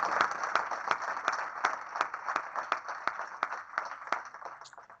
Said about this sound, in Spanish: este aplauso para ti